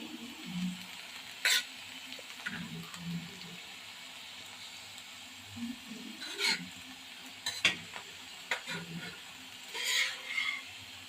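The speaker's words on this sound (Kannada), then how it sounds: "ಇವಾಗ ಬೇಯಿಸ್ಕೊಂಡಿರೋ ಸೊಪ್ಪು ಮತ್ತು ಕಾಳು ಹಾಕ್ಕೊತಾ ಇದ್ದೀವಿ" Cooked greens and lentils tipped into a pot and stirred, with soft scattered scraping, clinking and wet sloshing noises in irregular bursts, close and fairly quiet.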